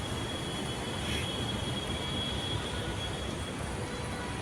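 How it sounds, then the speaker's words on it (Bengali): A metro train rolls past on an elevated double-track line, a continuous loud rumble of wheels and carriages that holds steady throughout with no voices. "মেট্রো উপর থেকেও যাচ্ছে"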